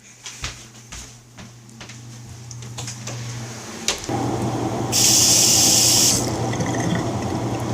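Water from a tap running onto the tip of a small handmade knife, starting as a soft trickle, then becoming a louder steady gush with a brief hissing spray burst.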